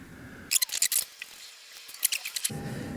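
A 1/2 inch socket wrench ratchets off the wire nuts on the starter of an MGB GT, giving two close runs of sharp metallic clicks separated by a brief quiet gap.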